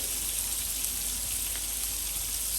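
Pork gyoza dumplings sizzle and steam in a hot pan with a steady, dense crackling hiss that holds at an even level throughout, with no talk over it.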